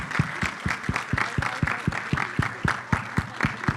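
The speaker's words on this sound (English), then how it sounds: "Everybody applaud them." Crisp, rhythmic clapping from a small group, steady claps in quick succession for several seconds, fairly close.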